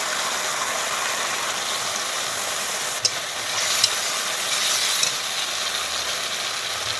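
A steady, loud hiss of a chili, garlic, cumin and ginger paste frying in a pan, continuous throughout with a couple of brief clinks from stirring near the middle.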